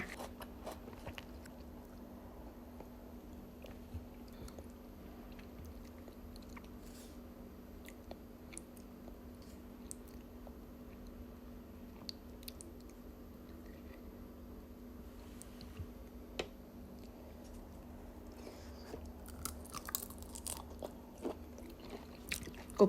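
Someone eats fresh shrimp doused in chili and fermented fish sauce, with quiet, close crunching and chewing in irregular bites over a steady low hum. No one talks.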